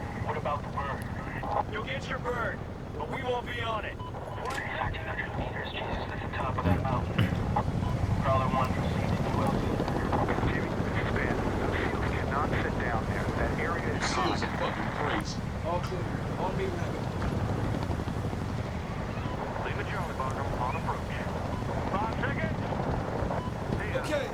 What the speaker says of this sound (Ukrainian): І ми летимо на гелікоптері.